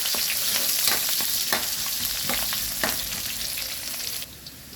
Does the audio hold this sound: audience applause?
no